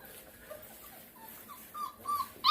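Young puppies, about 27 days old, whimpering faintly after their first meal of raw food; soft, scattered high whines and yips that grow a little louder and more frequent toward the end, with no talk.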